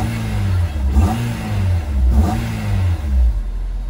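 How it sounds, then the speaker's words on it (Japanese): A Honda S2000 AP1 with Mugen intake and exhaust manifold and an HKS muffler is revved hard twice in quick succession at close range, each blip rising sharply and settling back to a rough idle. "では、ちょっとエンジンかけてみましょう。"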